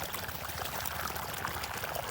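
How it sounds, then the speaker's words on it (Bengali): Water pours steadily into a bean field, a continuous broadband rush and splash with no break, close and fairly loud. "এই যে আমাদের বাড়িতে পানি চলে আসলো"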